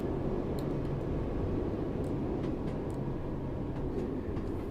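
Simulated passenger train on the Waverley to Queen Street line in Train Sim World 3, a steady low rumble of a train running along the track with faint clicks above, continuous and fairly even, with no talk over it.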